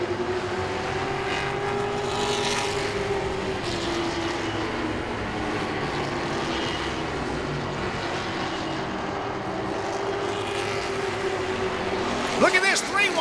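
Grand Stock race cars roaring past on the front straightaway at Langley Speedway, a continuous engine drone rising and fading as the pack passes, heard under a commentator's talk.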